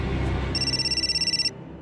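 A telephone rings in a short burst of rapid, evenly pulsed electronic trills lasting about a second, clear and close over a quiet room.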